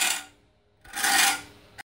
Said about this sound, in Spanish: Imaginaos que tenemos un serrucho viejo que tenemos que afilar